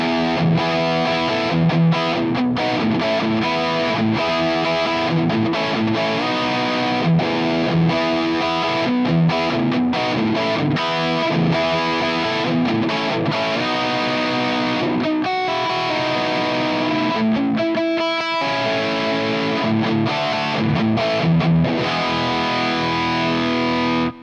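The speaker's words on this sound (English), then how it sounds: "I'll do one more classic rock type riff for you" Distorted electric guitar plays a classic rock riff through a Revv G50 50-watt amp with reverb, loud and continuous with chugging chords and short lead bursts, no voices.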